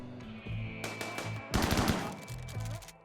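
Defense turrets in RimWorld fire rapid bursts of gunshots in short clustered volleys, loud and close, with brief gaps between bursts.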